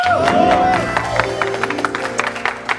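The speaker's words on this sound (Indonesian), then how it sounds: "Tepuk tangan buat Mbah Hasan." A studio audience on a television talk show claps in scattered, uneven bursts while music and a voice carry on over the clapping.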